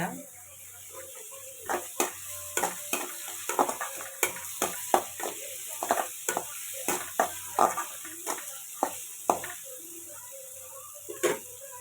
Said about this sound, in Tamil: கல்லுப்பு கொஞ்சம் போட்டுக்கிறேன். வெங்காயம் வதங்க.